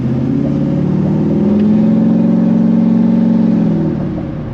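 A Duramax diesel pickup fitted with a 5-inch exhaust tip accelerates, its deep droning roar swelling steadily and holding loud and close for several seconds before easing off at the end.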